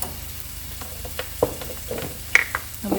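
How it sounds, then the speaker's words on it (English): Caramelized onions with dried thyme being stirred in a pan, a soft sizzle broken by a few distinct scrapes and clinks of the utensil against the pan, no talking. "And we just give it a nice little stir, so these flavors can incorporate into our onions."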